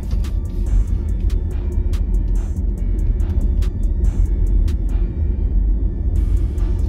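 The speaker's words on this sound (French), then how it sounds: "Là, je roule tranquillement" Inside a BYD Sealion 7 electric car cruising gently, a steady low road rumble fills the cabin, with faint ticking clicks above it and no voices.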